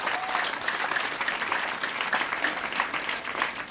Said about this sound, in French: Je ne saurais enfin terminer sans vous demander une salve d'applaudissements à l'endroit de ces bienfaiteurs de l'école sénégalaise.